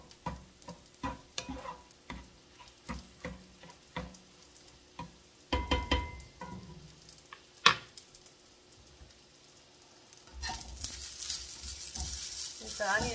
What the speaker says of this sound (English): sausage is frying up nicely.